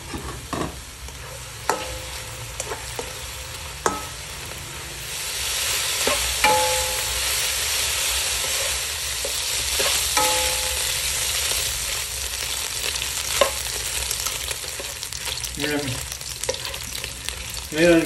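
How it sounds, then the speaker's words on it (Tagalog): Strips of meat frying in their own rendered fat, a steady loud sizzle with occasional crackles and pops and a few sharp utensil clinks, no talking. "pakuluan natin ito hanggang maprito siya sa sarili niyang mantika"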